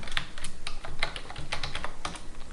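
Keys tapped on a computer keyboard while filling in a Revit title block, a steady close run of light clicks in quick uneven bursts with no voice over them.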